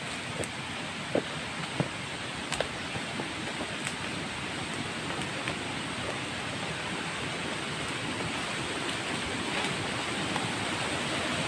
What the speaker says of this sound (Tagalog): May sapa. Lakas ng ilog ah.